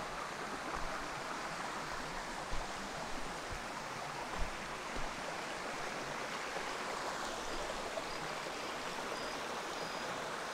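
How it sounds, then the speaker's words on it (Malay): Shallow, clear river stream in a forest along a mountain hiking trail, flowing with a steady broadband rush and soft trickling, continuous and close, with no voices over it. "Ini sungainya."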